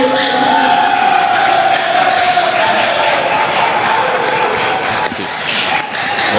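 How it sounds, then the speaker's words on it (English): Stadium crowd at an athletics championship cheering and applauding a long javelin throw, a steady loud roar of many voices and clapping sustained throughout with slight dips near the end. "the applause is for the javelin throw"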